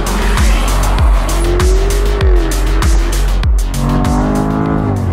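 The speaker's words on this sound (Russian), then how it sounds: "Прям как нажал газ, сразу, без задержки, несмотря на то, что бензиновый двигатель, очень бодро" A loud, close Jaguar F-Type petrol engine roars as it accelerates hard, its pitch climbing and dropping repeatedly through quick gear shifts, with tires squealing.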